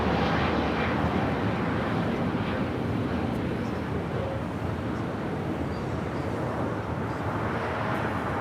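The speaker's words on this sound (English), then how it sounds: "The next heavy takeoff here on the south side is United Airlines 198. We'll be taking off to Shanghai on a 787-9 Dreamliner." A United Airlines Boeing 787-9 Dreamliner heavy takes off from the south side at Los Angeles International Airport, a steady broadband jet roar with wind noise on the microphone, loud and continuous throughout.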